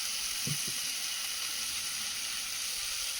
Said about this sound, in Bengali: ডাঁটাটা দিয়ে আর খুব বেশি ভাজবো না একটু নেড়ে চেড়ে নিয়েছি